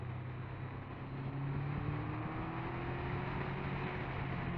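A Triumph Daytona 1200 motorcycle engine pulls in first gear on a narrow Eifel backroad, a steady droning hum with a faint rising tone, mixed with wind rush at the microphone.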